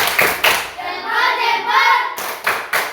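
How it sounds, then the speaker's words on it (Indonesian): A class of students claps for a student group in a classroom, short bursts of sharp hand claps at the start and end framing a stretch of rhythmic voices chanting together in the middle. "kita kasih tepuk salut untuk kelompok 2 yang cantik-cantik ini dulu"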